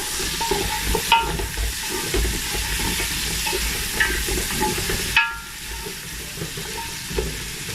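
Carrot and onion frying in oil for a cabbage sauce, a dense close sizzle with clattering stirs, then a drop to a softer, quieter fry after a sharp scrape partway through.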